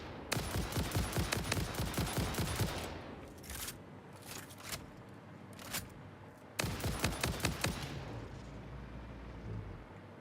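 Enemy gunfire in a factory-building game, loud rapid bursts of shots in several volleys separated by quieter stretches with single pops, no voices.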